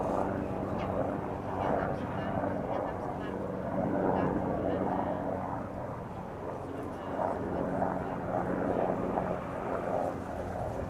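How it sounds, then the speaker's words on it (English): A police helicopter's low rotor drone throbs steadily in the background near Amsterdam Schiphol Airport, moderately distant, with faint murmurs mixed in. "All of a sudden I started hearing a helicopter."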